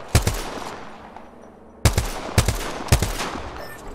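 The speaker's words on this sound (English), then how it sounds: "Opening fire on the enemy." Gunfire in a squad-based video game shooter: a quick double burst of shots, a short quiet pause, then three more sharp bursts, loud and close, each with a brief echoing tail.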